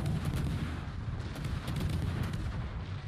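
Warship guns firing in World of Warships, a rapid run of booming shots from an American tier 10 light cruiser layered over a continuous low rumble, fairly faint.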